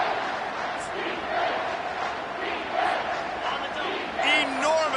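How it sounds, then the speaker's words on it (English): A stadium crowd at a Texas football game roars steadily and loudly, with shouts and whistles rising out of the sustained wall of noise. "this crowd is bringing down the house"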